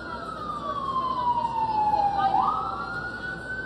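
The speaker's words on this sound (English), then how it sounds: "I'm going to let the ambulance pass." An ambulance siren wails past on a street, a loud single tone sweeping steadily downward and then rising again as the vehicle nears and moves on, over traffic rumble.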